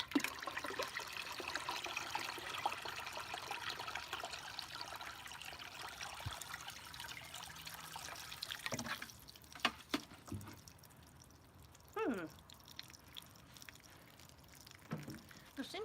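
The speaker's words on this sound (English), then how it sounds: "let's fill up this water feature." Water running and trickling as a garden water feature fills, a steady close splashing flow for about nine seconds that then drops away to faint intermittent drips and sounds.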